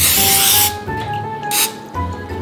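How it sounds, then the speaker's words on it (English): Olive oil is sprayed onto a hot griddle in a loud, close hiss, with two distinct spray bursts and a steady sizzle and tonal ringing between them. "We're gonna spray some olive oil on it."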